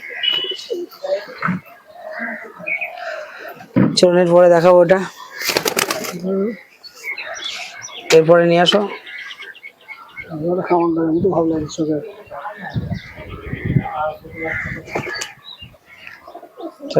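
Pigeons of the teddy breed coo in several throaty, pulsing phrases at a pigeon sale, with bursts of wing flapping between them, while someone talks intermittently over the birds.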